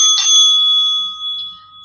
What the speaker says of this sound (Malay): Loceng ketiga akan dibunyikan sebanyak 2 kali, menandakan sesi soal jawab telah pun tamat